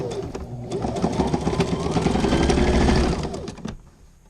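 A sewing machine stitches a backstitch at the end of a seam in one continuous, close, rapid mechanical run lasting about three and a half seconds before it stops.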